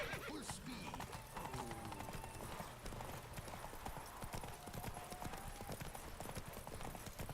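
The horse Roach gallops in The Witcher 3 video game, with rapid rhythmic hoofbeats and a whinny near the start, against faint background sound.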